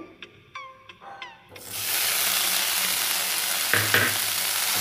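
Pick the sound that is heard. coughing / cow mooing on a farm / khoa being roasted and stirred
khoa being roasted and stirred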